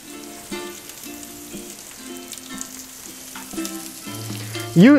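Steady crackling sizzle of butter in a hot non-stick frying pan, with faint clinks and a brief higher tone near the end.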